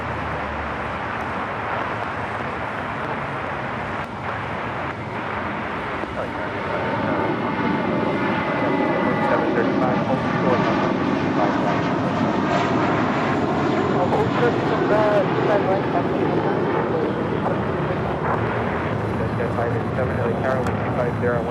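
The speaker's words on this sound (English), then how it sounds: "Next departure heading to Dallas Fort Worth, Texas. American Airlines Flight 1711 on an A321." An American Airlines Airbus A321 takes off from LAX, its jet roar building into a loud, sustained broadband rumble that holds for many seconds.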